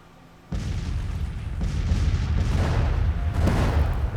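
Civil War cannon fire in Grand Tactician: The Civil War, a sudden onset of heavy low booming artillery that keeps rumbling, with several distinct blasts rolling over one another at a distance.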